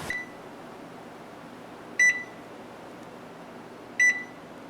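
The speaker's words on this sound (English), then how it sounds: "The timer has gone off." Kitchen timer going off during bread baking, two short electronic beeps about two seconds apart over a steady background hum.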